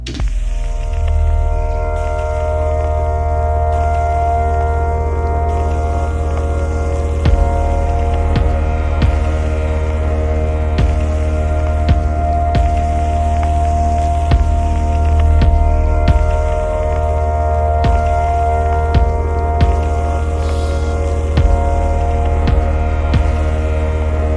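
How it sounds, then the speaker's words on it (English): A sustained synth chord drones on steadily, thick and humming with a low throb, repeating in a long loop with no voices. "we have this main synth doing this long chord"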